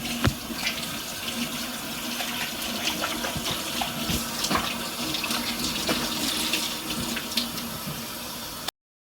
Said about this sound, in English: Now you gotta be washing your hands before proceeding.